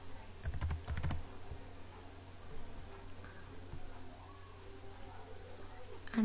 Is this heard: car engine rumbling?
no